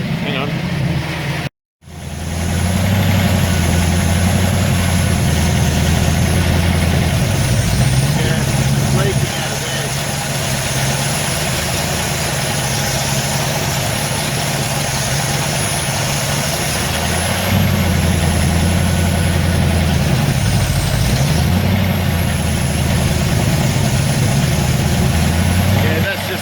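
A Ford ZF Fairlane engine under restoration idles with a steady, low, rumbling drone, its pitch shifting slightly a few times as the revs are bumped up.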